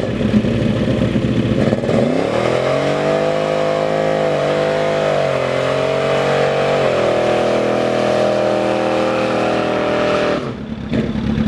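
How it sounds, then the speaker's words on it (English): Engines of an Audi, a Firebird, a ZX10R sport bike and a 200 motorcycle roar together up close, one rising and falling in pitch through sustained revs before cutting off near the end, with no talk over it. "You guys heard everything. You heard the Audi, the Firebird, the ZX10R, the 200."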